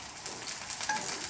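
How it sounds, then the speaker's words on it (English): Chopped tomatoes, onions and eggplant sautéing in a pan for a Provençal ratatouille, a soft, steady sizzle with faint stirring clinks, heard alone at low volume. "I don't want my tomatoes and my onions getting too brown there. I just want them to be nice and sautéed."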